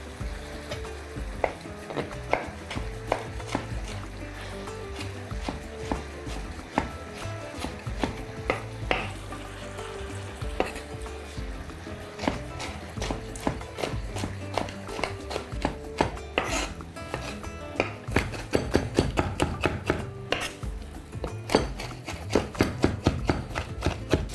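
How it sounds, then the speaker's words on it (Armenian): A knife chops grilled onion on a cutting board with a steady run of close, sharp taps that speed up toward the end, while meat fries nearby and the occasional pan clatters. "Կտրատում ենք նաև խորոված սոխը"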